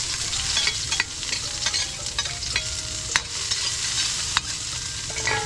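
Garlic and onion fry in the oil from pancit canton, a continuous close sizzle broken by sharp scraping stir strokes at irregular intervals.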